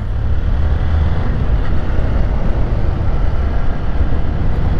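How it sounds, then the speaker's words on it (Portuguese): A tractor drives along a highway, heard as a loud, steady low engine rumble and road roar that continues unbroken throughout. "Esse trator de novo, cara."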